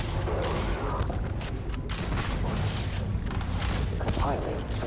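Steady gunfire from a weapon in the space game Starfield, a dense run of shots that continues through the whole stretch under a wash of other game noise and occasional voices.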